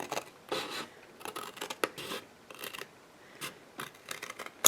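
Scissors cut through card and patterned paper in short, crisp snips and rasps at close range, coming in irregular bursts with quiet gaps and no talking.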